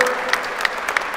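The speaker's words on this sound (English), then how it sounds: "Let's clap our hands for our" An audience claps for a champion at a jiu-jitsu event, a dense steady patter of many hands with a few sharper individual claps over the crowd.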